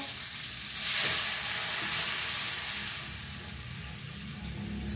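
Mung beans go into a pot of sautéed aromatics and are stirred, giving a steady sizzle and hiss with a louder burst near the start. No one speaks.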